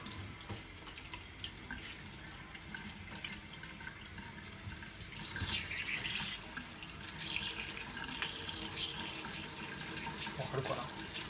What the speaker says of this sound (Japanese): ここのエラのところにこのホースを入れて